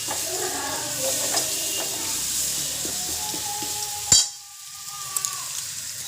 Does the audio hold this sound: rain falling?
no